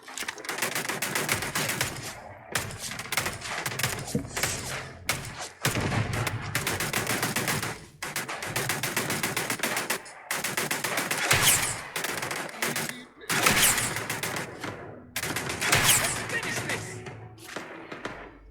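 Repeated bursts of rapid gunfire from a weapon in the space game Starfield, loud and close, arriving in dense volleys with brief gaps across the whole stretch.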